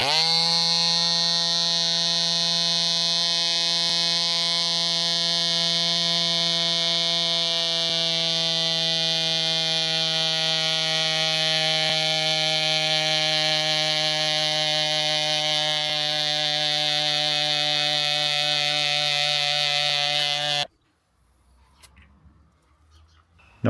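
An electric bike air pump inflating a tyre through the valve gives a steady, loud, high-pitched motor whine that rises slightly in pitch as pressure builds, running about twenty seconds before cutting off into near silence.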